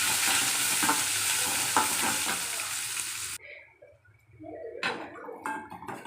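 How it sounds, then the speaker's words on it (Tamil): A pan sizzles loudly as onions, green chilies and curry leaves are sautéed and stirred, with a few scraping strokes; the frying hiss drops out midway, then sharp stirring clatters resume. "நல்லா வதக்கிறோம்."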